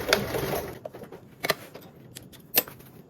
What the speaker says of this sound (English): I'm just going to sew straight on down.